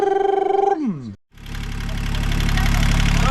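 A droning mechanical tone sweeps downward and cuts out, then a Yanmar marine diesel engine on a sailboat rumbles into a steady, close, loud idle.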